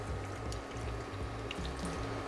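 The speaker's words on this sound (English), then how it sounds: "I'm gonna add in the tamarind water now." Tamarind water is poured into a spicy sardine sambal paste in a home kitchen, giving a continuous close liquid splashing and trickle with a faint low hum beneath, and no voices.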